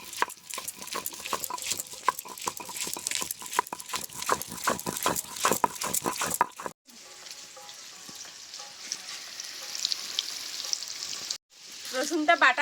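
Potatoes fry in a pan with a continuous crackling sizzle, while nearby garlic is pounded in sharp rhythmic knocks during the first half; the frying hiss carries on alone afterward, with brief cuts.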